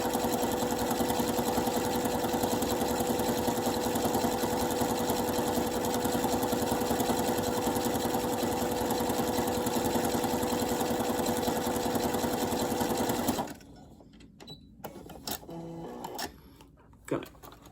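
A sewing machine runs at a steady high speed, stitching double folded bias tape onto fabric, with a loud continuous whir and motor hum for about thirteen seconds before stopping abruptly, followed by a few small handling clicks.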